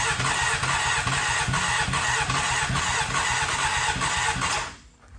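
A Honda CBR motorcycle engine cranks over in a fast, even churning rhythm for nearly five seconds without catching, then the starter stops and it goes quiet.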